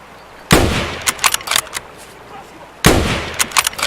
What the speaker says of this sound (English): So now I just fired 3 times